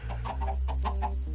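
Chickens cluck steadily in Minecraft, with a run of short repeated clucks over a low continuous hum, close and fairly quiet.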